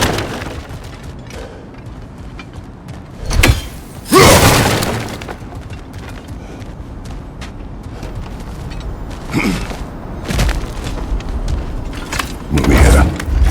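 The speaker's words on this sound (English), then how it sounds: "back to smashing through things for fun and profit" Objects are smashed and broken in God of War Ragnarok, with two loud crashing bursts early on, then scattered lighter impacts and rumbling over a steady game backdrop.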